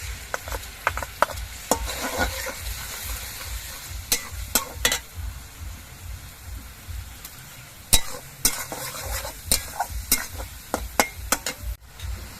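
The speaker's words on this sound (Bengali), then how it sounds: "এবার পেঁয়াজটা আমি কিছুক্ষণ ভেজে নেব একটু লালচে রং ধরিয়ে পেঁয়াজটা ভেজে নেব" Onion paste with garlic frying in a pan for a prawn-in-yogurt curry, a steady close sizzle broken by frequent sharp scrapes and clinks of a spatula stirring throughout.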